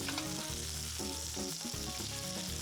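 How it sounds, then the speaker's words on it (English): Steak fries in a pan with a faint, steady sizzle under a droning tonal background hum, without speech. "While the steak is cooking there"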